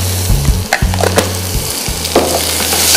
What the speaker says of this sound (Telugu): ఉల్లిపాయలు కొద్దిగా ట్రాన్స్పరెంట్ అయ్యేంత వరకు మనం వేగనిద్దాం